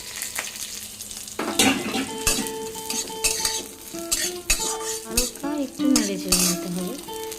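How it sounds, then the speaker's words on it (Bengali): Chickpeas and potatoes stir-fry with dried chilli and cumin, oil sizzling loudly while a metal spatula clanks and scrapes against the pan in irregular bursts, with some ringing metallic tones. "শুকনো লঙ্কা আর জিরে ফোড়ন দিয়ে ছোলা আলু তুলে দেবো"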